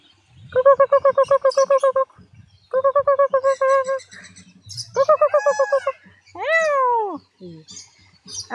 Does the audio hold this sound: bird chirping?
yes